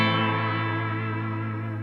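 Strymon Timeline delay pedal set to pitch-shifted repeats with slow modulation, a sustained chord-like tone smearing into wavering, echoing layers that hold steady and loud throughout with no talking.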